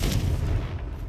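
A Confringo blast spell goes off in Hogwarts Legacy, a dull low booming burst that rumbles steadily through the whole moment without any distinct sharp onset.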